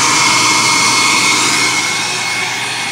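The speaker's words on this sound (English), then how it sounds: "if you speed it up with a hairdryer" A steady, loud rush of blowing air from a hair dryer running close by inside an RV freezer to defrost it, constant throughout.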